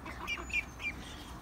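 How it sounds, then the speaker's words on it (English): Ducks give a few faint, short quacks outdoors near a pool, three scattered calls over low background noise. "Don't herd the ducks up here."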